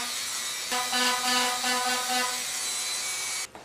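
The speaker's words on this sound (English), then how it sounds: "the Dremel tool is blending into this scratching that we just did" A Dremel rotary tool grinds across an airbrushed granite-look stone surface with a close, high, whirring buzz that holds for a few seconds before cutting off.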